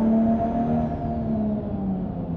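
A Supra's engine revs steadily in BeamNG.Drive, a loud, close, continuous drone whose pitch eases slightly downward as it holds, with no voices over it.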